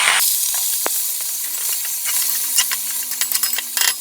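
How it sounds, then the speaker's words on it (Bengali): Fenugreek greens fry with browned onion in a pan, a continuous close sizzle with crackles and spatters that grow busier toward the end, a low steady hum beneath, no voices. "এই মেথির শাকটা আমি ভেজে নেব"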